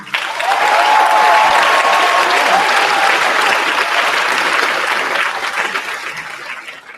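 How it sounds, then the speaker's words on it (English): A graduation crowd at a 2016 Camas High School ceremony breaks into sustained, dense applause that swells quickly, holds steady, then slowly thins out, with a few whistles and cheers riding over the clapping. "Let's give them all a round of applause."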